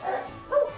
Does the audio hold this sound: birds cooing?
no